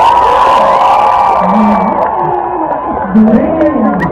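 A festival crowd at a Philippine Christmas event in a Sydney park cheers, shouts and whoops loudly and continuously to choose a contest winner, with swelling yells near the end and voices mixed throughout.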